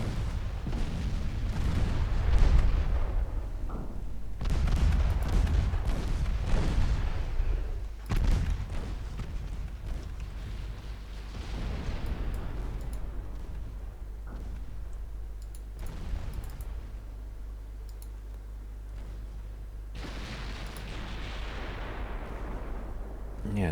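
Heavy naval 10-inch guns fire in a 1964 Norwegian campaign naval battle game, loud deep booms recurring in irregular salvos over a constant low rumble.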